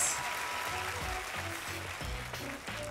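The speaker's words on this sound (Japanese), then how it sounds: "もう一度大きな拍手お願いします。" Crowd applause at a Japanese MC rap battle event, a soft, distant wash of clapping with a thumping beat underneath.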